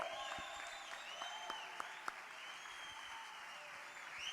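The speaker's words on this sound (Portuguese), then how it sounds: "Aplauda o Senhor." A church congregation applauds, a dense, steady wash of clapping from many hands with a few sharper individual claps standing out, continuing throughout.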